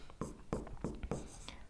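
A pen scratches across paper in short quick strokes, four or five close, crisp bursts of scribbling in a quiet room with no voice.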